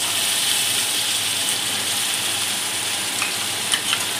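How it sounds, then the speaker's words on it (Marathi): Tomatoes sauté in a hot pan with a dense, steady close-up sizzle, and a couple of soft utensil taps come near the end. "टोमॅटो पण मस्त परतून घ्यायचा"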